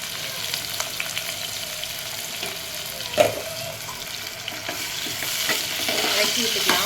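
Biryani ingredients sizzle steadily in a hot pan while being stirred, a continuous bright frying hiss broken by occasional scraping knocks of the spoon, one sharper clack near the middle, growing slightly louder toward the end.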